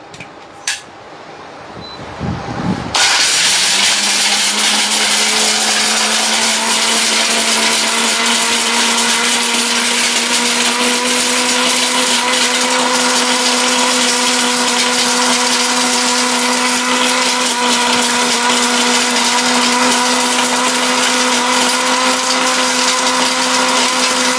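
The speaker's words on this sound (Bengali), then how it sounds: "এই যে ব্লেন্ডারটা চালু করে দেই" A kitchen blender grinds whole turmeric, starting with a few faint clicks and then roaring up into a loud, steady high-pitched motor whine with a churning rattle that runs unbroken for about twenty seconds.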